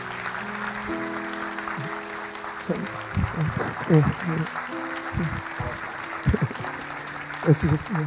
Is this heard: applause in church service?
yes